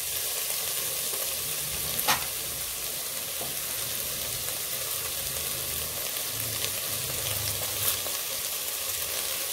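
Cabbage sautéing in a pan for a pakoda dish, a steady close sizzle running throughout with a couple of sharp clicks of a spoon against the pan, no voices.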